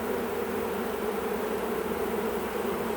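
A honey bee swarm fills the air with a steady, dense buzzing that stays close and loud without a break, with no voices over it.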